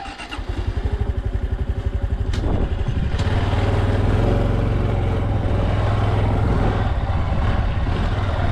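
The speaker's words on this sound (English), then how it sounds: "our little Honda 125 motorbike, also cool" A small Honda Trail 125 (CT125) motorbike engine putters steadily at low speed on a beach, rising slightly as it gets going, close and continuous throughout.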